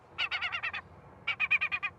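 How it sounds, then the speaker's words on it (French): Recorded gull distress call blasted from bird-scaring equipment at Roissy Charles de Gaulle airport: two quick bursts of about six harsh, rapid yelping notes each, separated by a short pause, with no talking. "Son de détresse de la mouette."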